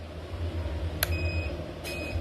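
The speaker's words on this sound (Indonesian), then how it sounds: "Ini saya nyalakan, ada suara buzzer 2 kali." A 936 soldering station powering on gives two short high buzzer beeps about a second apart over a steady low hum, with no speech.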